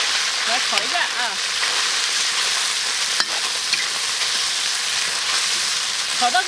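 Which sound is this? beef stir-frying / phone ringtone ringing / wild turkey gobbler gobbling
beef stir-frying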